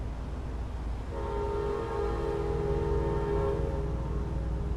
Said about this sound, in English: Or is that a train? That's a train.